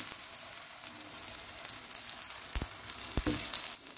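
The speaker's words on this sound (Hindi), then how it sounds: "अब एक एक करके हम इसे इसको फ्राई करेंगे" Eggplant slices shallow-frying in a few spoons of oil over a medium-high flame, giving a continuous bright sizzle up close with a few brief pops and ticks.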